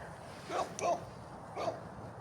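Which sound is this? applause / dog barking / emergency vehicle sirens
dog barking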